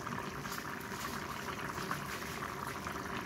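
Seasonal winter vegetables boil in a cooking pot with a dense, steady bubbling and hissing that runs close and unbroken throughout, with no talking.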